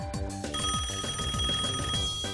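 A telephone in a video game rings on a call home that nobody answers, repeated trilling electronic rings in a quick, even pattern, loud and clear with no talking.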